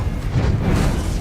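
Confringo fire spell explosion in the video game Hogwarts Legacy, a short, loud, deep boom with a rumbling low-end burst lasting about a second.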